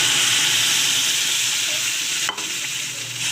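Sambar masala sizzles and is stirred in a hot tempering with cooked dal, a steady loud frying hiss close up, with a brief scraping stir clatter near the end.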